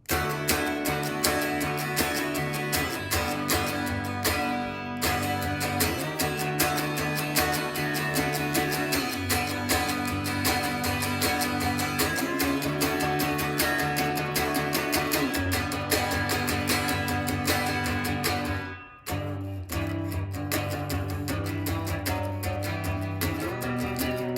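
Guitar plays the ending of a song, with dense strummed chords in a steady rhythm, a brief dip near the nineteenth second before the strumming resumes, continuous and close with no talk.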